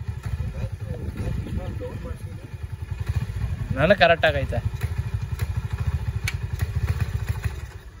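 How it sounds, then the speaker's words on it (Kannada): A Honda CD100SS motorcycle engine, freshly restored, idles with a steady low chugging throughout, while a person speaks briefly over it partway through. "ಗಾಡಿ ಸೌಂಡ್ ನೋಡಿ ಹೆಂಗೆ ಗೊತ್ತೈತೆ."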